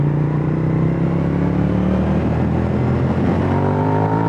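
A 2004 Suzuki SV1000 motorcycle engine runs steadily at close range, a loud, continuous low rumble with a slight rise in pitch over a few seconds and no voices.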